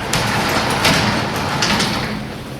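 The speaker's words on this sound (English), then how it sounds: "I'm going to check the door for proper balance and adjustment." A commercial sectional door moves steadily on its tracks during a balance check, giving a continuous mechanical rumble with faint rattling and a few brief clacks, fairly close and with no talk.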